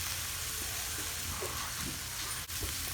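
A red wine reduction sizzles and bubbles steadily in a pan as it is stirred, a continuous close, hissing simmer with faint scrapes and clinks of the utensil.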